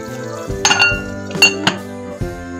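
A metal lid clinks onto a pot of chicken tinola, a few sharp clattering contacts close by, with faint kitchen rumble underneath.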